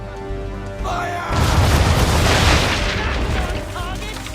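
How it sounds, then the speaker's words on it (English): Ship cannons firing a broadside in Assassin's Creed III, a heavy rolling boom that swells and sustains for a couple of seconds, with shouted voices before and after. "Now, aim all guns at her bow and do as much damage as possible."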